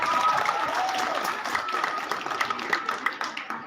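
A school assembly audience applauds celebrating students' sports achievements, a dense round of clapping that stays lively and gradually breaks into scattered individual claps with faint crowd murmur.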